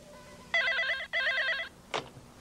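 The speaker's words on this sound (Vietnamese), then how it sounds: "Hân, có điện thoại nè" An old-fashioned telephone bell rings in two loud, rapid trilling bursts with a short pause between them, followed by a brief clatter as the receiver is picked up, in a quiet home scene from a 1994 Hong Kong TV drama.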